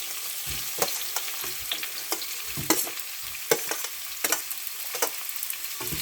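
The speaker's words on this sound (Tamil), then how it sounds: "லைட்டாக வதக்கினா போதும்" Ginger, garlic, green chili, curry leaves and onion sautéing in hot oil, a steady sizzle broken by repeated scraping stirs at an irregular pace, close and clear with no talk.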